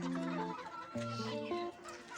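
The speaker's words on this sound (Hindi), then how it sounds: "ये भी अच्छा पीस है, मुर्गी है।" A hen clucks close by in short, throaty bursts, with a few overlapping calls, likely from other birds nearby.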